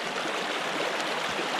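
Steady water rushing through a gold sluice box with new matting in a canyon creek after rain, a continuous close broadband flow with no voices.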